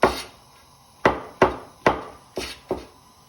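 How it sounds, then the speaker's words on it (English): A knife slices a mushroom finely on a cutting board for fried rice: six crisp, close chops land in an uneven rhythm with quiet gaps between them and no talking. "Another mushroom, just slice nice and finely."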